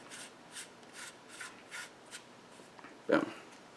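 The end cap of a Gemtech Lunar-45 suppressor is twisted onto the main body: a quiet series of short, evenly spaced metallic scraping strokes, ending in a single sharper click as it seats snug.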